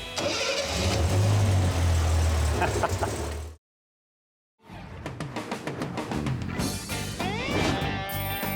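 A 1966 Volkswagen Beetle engine cranks and catches, runs with a little throttle, cuts out to a brief silence, then starts again and revs in short pulses, loud and close.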